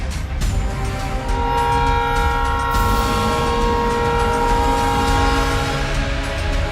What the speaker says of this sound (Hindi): हॉर्न बजाती हुई तेज रफ्तार से आती ट्रेन,